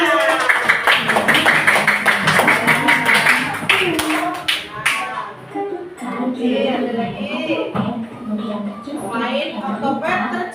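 Children clap their hands in a classroom, with a burst of quick clapping early on that gives way to a teacher and children talking over faint scattered taps.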